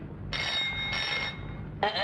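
An old telephone bell rings in bright, clattering bursts in a classic Hindi film scene, with three separate rings across the short stretch over a low background hum.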